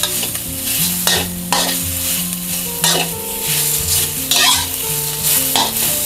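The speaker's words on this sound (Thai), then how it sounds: "ให้เรานำหมูมาคั่วนะจนเขาแห้งค่ะแล้วก็สุกนะ" Sun-dried salted pork is stir-fried in a warm pan until dry, with loud, continuous sizzling and repeated scraping strokes of a spatula, close up and without talk.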